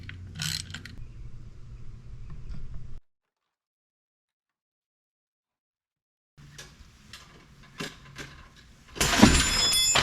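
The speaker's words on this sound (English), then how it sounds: "I didn't realize how much weight I had on the ratchet strap" A heavily loaded ratchet strap is released during work on a broken-off transmission: mechanical clicking and rattling, then a long silent gap, then more clicks and a loud, sudden burst near the end.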